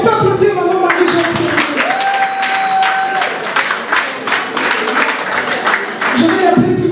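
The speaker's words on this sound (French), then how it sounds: "Est-ce qu'on peut applaudir Maman Marie-Jeanne?" An audience applauds Maman Marie-Jeanne at an event honouring women with disabilities, a steady crowd clapping throughout that is loud and close, with voices and a brief tone heard over it.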